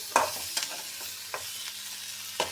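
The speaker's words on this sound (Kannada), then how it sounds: "ಈ ಎಳ್ಳು ಹುರಿಯೋದಾಗಿರ್ಬೋದು ಇವೇನೋ ಕಾಳಿನ ದಿನಸ ಹಿಂಗೆ ಹುರಿತಿರ್ತೀವಲ್ಲ ಚಟಪಟ ಚಟಪಟ ಅಂತ ಸೌಂಡ್ ಗೊತ್ತಾಗಿಬಿಡ್ತೈತೆ" Sesame seeds roast in a pan and give scattered, sharp pops and crackles, a few seconds apart, over a faint low hum. Soft stirring can be heard between the pops.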